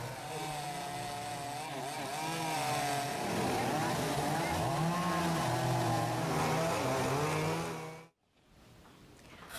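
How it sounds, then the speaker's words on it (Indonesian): An electric chainsaw cuts through a fallen tree during a clearing job in Senen, Jakarta, with a loud, steady motor whine that rises and falls in pitch, then stops abruptly near the end. "memotong pohon menggunakan gergaji listrik"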